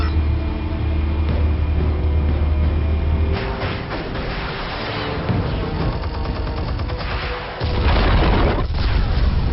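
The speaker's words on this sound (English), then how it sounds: "Explosives armed. Fire when ready." Explosive detonations in a Batman video game: heavy booms and rumbling blasts thunder in bursts over about ten seconds, with a fresh deep boom near the end, loud and close.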